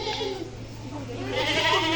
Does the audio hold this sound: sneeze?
no